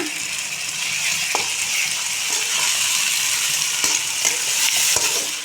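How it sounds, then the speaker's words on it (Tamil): Onions and tomatoes sauté in a pan for an egg masala gravy, giving a steady crackling sizzle and a few spoon scrapes and taps against the pan. "தக்காளி போட்டு நல்லா அது கிரேவியாக மாறுடும் அது வரைக்கும் நல்லா வதங்க விடுங்க"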